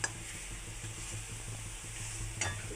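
Leftover roti pieces fry in a spiced tempering with a steady low sizzle, a faint rhythmic stir, and a couple of light metallic clinks from the pan.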